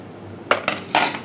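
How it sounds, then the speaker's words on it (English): Scissors cut through craft material for a Christmas gnome in three crisp, close snips spaced within about a second. "And then I cut it off a little bit so that you don't have too much overlap."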